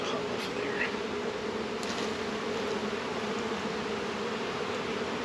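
A swarm of bees pulled from a swarm trap hums in a dense, continuous buzz close by, with individual bees droning past now and then, and no talking.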